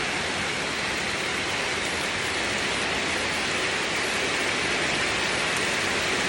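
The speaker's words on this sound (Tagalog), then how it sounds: "Ganito dito pag umulan." Heavy rain pours down on a hillside farm, a dense, even hiss of falling water, loud and constant from start to finish with no voices.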